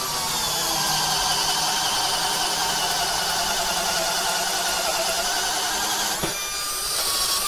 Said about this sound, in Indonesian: ini saya di ukuran di 13 mili untuk self drilling mata bor produk Bosch ini